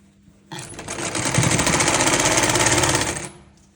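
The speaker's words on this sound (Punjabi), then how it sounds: "ਇਹਨੂੰ ਆਪਾਂ ਐਦਾਂ ਫੋਲਡ ਕਰਕੇ ਸਲਾਈ ਲਗਾਉਣੀ ਹੈਗੀ" A sewing machine stitches a sleeve seam on folded fabric, starting abruptly and running in a fast, even mechanical chatter for under three seconds before stopping, loud and close.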